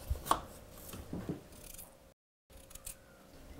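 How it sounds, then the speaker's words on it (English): A knife chops a potato on a board for couscous, giving a few quiet, uneven cuts and taps up close. A short stretch of silence breaks them, then a couple more soft strikes follow, with no voices. "I cut the potato."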